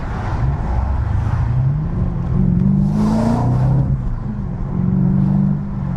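Modified BMW E92 M3 V8 engine revving while driving, its pitch rising and falling through several loud, close pulls with a layered exhaust growl and no talking.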